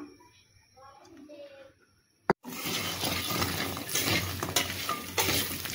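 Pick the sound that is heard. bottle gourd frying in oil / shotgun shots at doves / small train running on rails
bottle gourd frying in oil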